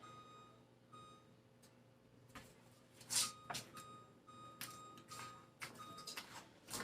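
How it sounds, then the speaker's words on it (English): A kitchen timer gives a series of short, sharp electronic beeps as buttons are pressed to set it, irregularly spaced and fairly quiet, amid light handling clicks. "So now I put the timer on."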